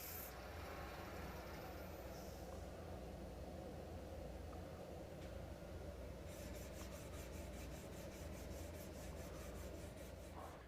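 A wooden stool leg is sanded with 120-grit abrasive held diagonally. The sound is a continuous, close rasping rub that holds steady for about ten seconds, with a faster rhythmic scratching pattern in the second half.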